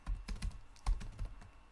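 Someone types on a computer keyboard while setting up Arduino code, a quick series of soft, close key taps at a low, quiet level.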